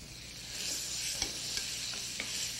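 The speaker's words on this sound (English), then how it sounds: "And we just want to sauté it a little bit until it just stiffens very slightly." Goose liver with chopped shallot sautéing in a pan, a soft, even sizzle throughout with a few faint spatula scrapes and taps.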